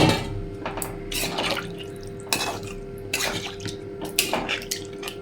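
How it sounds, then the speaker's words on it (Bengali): Water left from paneer, mixed with a little extra water, poured into a pan as gravy, with intermittent splashing bursts and clinks of the pan over a low steady hum, no talking. "পনিরের জল সাথে আর একটু জল মিশিয়ে নিয়েছি"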